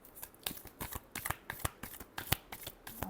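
Tarot cards being shuffled by hand, a rapid close riffle of papery flicks and slaps in an uneven rhythm, continuous and alone with no talk.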